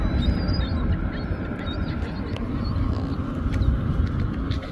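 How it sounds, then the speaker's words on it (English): Ducks or geese being fed call with scattered quacks and honks over a noisy outdoor background, fairly close but partly masked by rumble. "Let's go back to terrorizing these birds."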